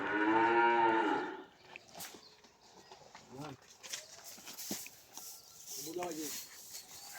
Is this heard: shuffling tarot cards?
no